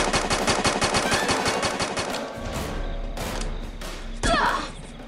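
Rapid automatic gunfire from the video game Free Fire rattles in fast bursts, then gives way to scattered single shots and thuds, loud and sharp throughout.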